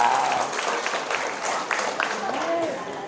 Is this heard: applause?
yes